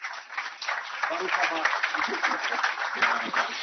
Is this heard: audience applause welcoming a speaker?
yes